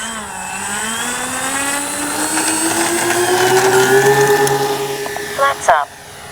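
Engines of an RC Flightline B-25J warbird model airplane drone loudly with a rising, sweeping pitch as it passes, followed by a couple of sharp bumps near the end, with a voice speaking at times.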